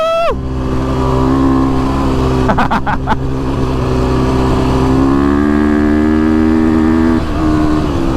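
A KTM 350SX-F dirt bike set up for desert racing screams at wide open throttle on sand, its engine note holding high and climbing steadily with brief dips between pulls, loud and close throughout.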